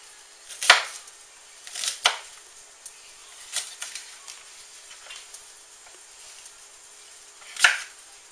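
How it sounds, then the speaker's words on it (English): A knife chops onions on a board in a few separate sharp knocks spaced a second or more apart, with faint rustling between them. "But just try to get the onion pieces that you've got in here chopped, just as fine as possible"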